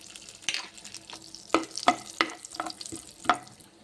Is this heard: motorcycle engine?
no